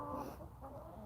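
Chickens cluck softly inside a coop, a low, steady murmur of fowl sounds over a brief moment, faint and unbroken by talk.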